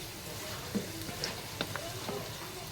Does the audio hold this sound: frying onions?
yes